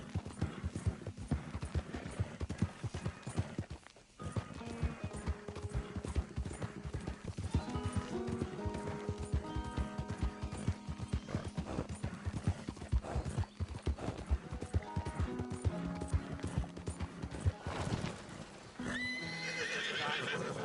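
A horse in Red Dead Redemption 2 gallops with rapid, continuous hoofbeats, loud and close, punctuated by neighs and whinnies, with no talking.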